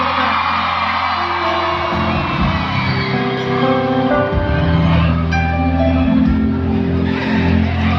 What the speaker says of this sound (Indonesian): Tepuk tangan atau teriakan paling keras dari kalian semua.